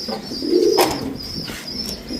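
Pigeons cooing close by in a loft of healthy fancy pigeons, soft low throaty coos with a steady high whine in the background and a faint flutter, no voices.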